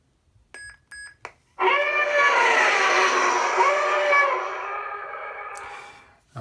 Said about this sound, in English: So this is another speed bike variant sound font.